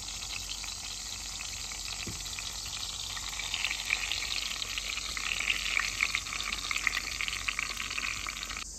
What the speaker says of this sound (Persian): گوجه و بادمجونا رو هم چیدیم توی تابه و حالا این سس خوشمزه رو میریزیم روش